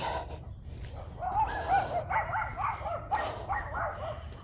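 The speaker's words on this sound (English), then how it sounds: "That's a different doggy choir. It's on the opposite side of the street here." Several dogs across the street bark and yip together in a distant, muffled chorus of overlapping calls.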